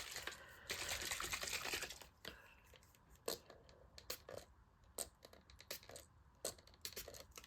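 Water sloshes and rattles inside a bottle as it is shaken with Perfect Pearls shimmer powder, a busy burst of liquid churning followed by scattered clicks and small splashy knocks, close and fairly quiet.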